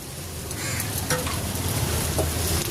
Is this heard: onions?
yes